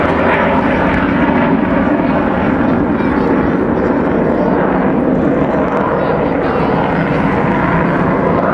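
An Avro Vulcan XH558 bomber roars overhead at a Scottish beach air show at Ayr, its jet engines giving a loud, sustained rumbling howl that stays constant throughout.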